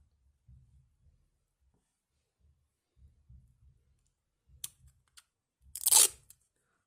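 Adhesive tape is pulled and torn in a loud, rasping burst near the end, while making a squishy toy from a clothing tag, preceded by a few soft clicks and quiet handling noises.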